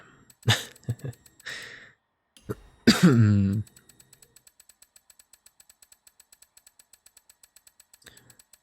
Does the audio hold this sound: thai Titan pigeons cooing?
no